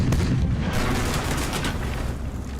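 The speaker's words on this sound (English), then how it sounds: "Reload the rockets and cannons!" Heavy, continuous booming and rumbling of cannon and rocket fire in a battle, a dense barrage of blasts blending together without pauses.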